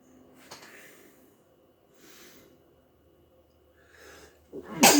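A sharp, loud sneeze bursts out at the end, after a few quiet breathy sounds and soft snorts.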